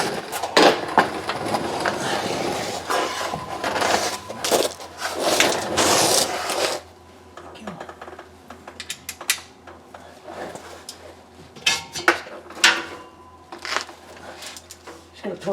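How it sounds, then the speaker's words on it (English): A ratchet works on bolts during U-joint and carrier bearing assembly on a 1999 GMC Sierra, with bursts of rapid clicking and metallic clanks, close by, with some talk and handling noise. "Get a ratchet."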